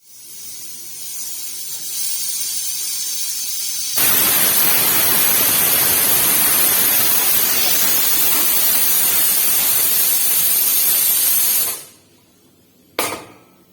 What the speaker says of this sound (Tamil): குக்கர் மூடிட்டு நல்லா ஒரு விசில் விட்டுறலாம்.